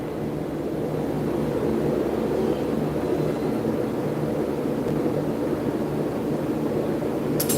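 Metal heating in a blacksmith's forge, a steady low roaring rush of the fire running evenly and close throughout, with a faint short rattle at the very end.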